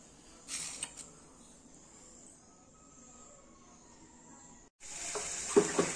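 Moringa drumstick pods and moth beans hit a hot spice masala and sizzle in a steady hiss, with a brief louder burst early on and a stronger sizzle returning near the end after a short pause.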